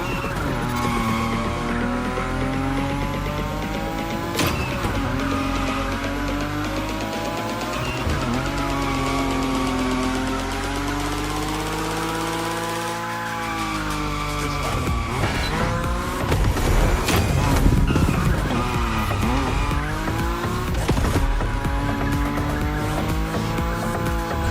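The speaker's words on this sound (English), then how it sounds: "Your Nismo is powerful enough to slide along on its own when you're at high speed" A Nissan Nismo slides at high speed in The Crew Motorfest racing game, with loud, continuous tire squeal and skidding over a revving engine whose pitch sweeps up and down, and no voices.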